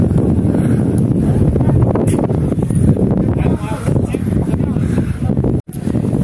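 Strong wind buffeting the microphone outdoors at Siklesh village in Nepal, a constant loud low rumble with gusts, while a person talks over it.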